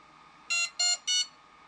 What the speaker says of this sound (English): Oh, and that thing just beeped.